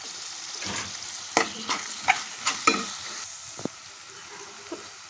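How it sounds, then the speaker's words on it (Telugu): A tomato frying in a pan for vegetable rice sizzles steadily while a spoon stirs it, with several distinct scraping knocks against the pan, close and moderately loud, with no voices. "ఇప్పుడు ఇందులోనే ఒక టమాటా కూడా యాడ్ చేస్తున్నాను"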